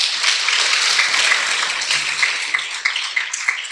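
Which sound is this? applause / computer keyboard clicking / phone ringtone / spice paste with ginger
applause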